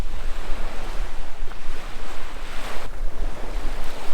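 Loud, continuous roar of ocean surf on Koh Chang, Thailand, with a broad wash of breaking waves and gusty wind buffeting, no voices.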